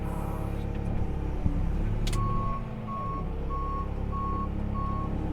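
Lorry reversing alarm on a farm, steady evenly spaced beeps starting partway through over a continuous diesel engine rumble from a truck backing up, fairly close and loud.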